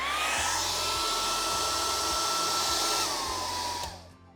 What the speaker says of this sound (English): you can use a hairdryer, setting it at a warm temperature